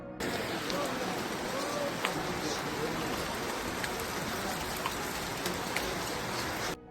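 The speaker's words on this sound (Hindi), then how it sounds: "जैसे ही हम नीचे उतरे इतनी तेज बारिश शुरू हो गई" Heavy mountain rain pours steadily on the Tungnath Chandrashila trek, a constant dense patter with occasional sharper drops hitting nearby surfaces.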